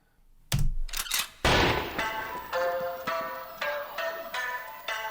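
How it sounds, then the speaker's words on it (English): A few sharp bangs open, followed by a sustained burst of rapid, loud reports with ringing tones, like gunfire over music. "Gunshots."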